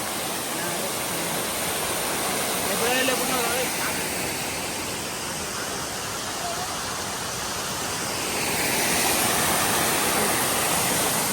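A steady, roaring rush of a waterfall fills the scene continuously, with faint voices barely audible beneath the torrent.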